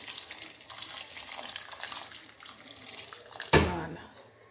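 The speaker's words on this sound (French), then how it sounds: "Donc je vais ajouter de l'eau bouillante" Boiling water poured into a pot over chicken for a Moroccan marqa stew, a steady close splashing pour with a brief heavier splash near the end, under the faint noise of the kitchen.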